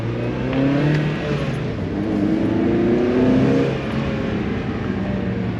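A Mazda Miata on its stock exhaust pulls hard under acceleration, its engine note rising in pitch across the run with a steady, fairly loud drone and a whirring intake sound.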